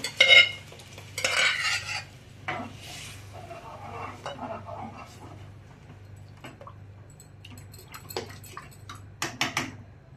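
Masala and cooked moth beans for misal are stirred and sautéed in a pan, giving intermittent scraping and clinking spatula strokes over a soft sizzle and a low steady hum.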